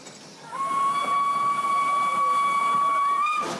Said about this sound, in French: entendre le bruit du moteur à vapeur